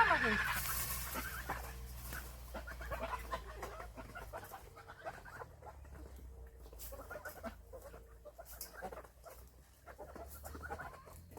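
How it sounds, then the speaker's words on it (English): Chickens in a pen on an abandoned Italian farm, clucking and fussing in a steady, busy chorus at moderate distance, with other farm-animal calls mixed in and outdoor background noise throughout. "I put almost all of the chickens here"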